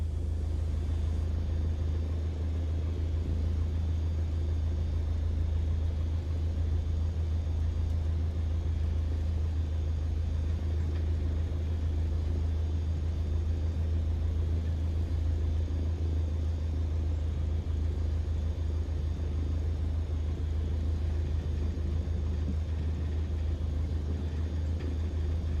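Steady low engine drone of a light aircraft taxiing on an airport taxiway in a flight simulator, constant and unchanging with a deep hum and faint higher hiss, no voices.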